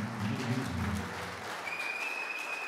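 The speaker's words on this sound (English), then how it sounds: "give God a praise offering by clapping your hands" A church congregation claps hands in a dense burst of applause that fades out over a couple of seconds, with a faint tone lingering afterward.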